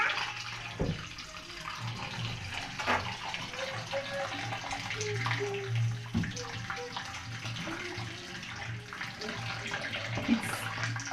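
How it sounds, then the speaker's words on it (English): Cold water runs from a kitchen tap over freshly cooked food in a strainer, a steady, fairly quiet splashing flow with faint clinks and brief background noises. "I'll put it here and let cold water run over it."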